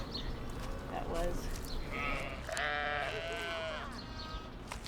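Sheep bleat several times on a Western Colorado ranch that raises long-tailed sheep, the wavering calls close and clear, overlapping one another in a short burst.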